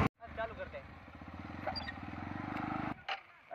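A heavy motorbike in a Rajasthan village starts and settles into a steady, throbbing idle close by, with a voice briefly over it before the engine cuts off.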